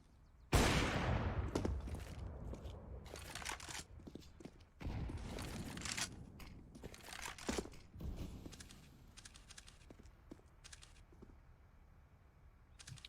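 Counter-Strike (CSGO) gunfire punches through walls in quick bursts on the Overpass map during an IEM Beijing 2020 match, sharp shots clustered early and middle before fading to quieter footsteps and movement.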